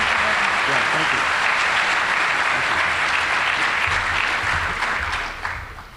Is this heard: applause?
yes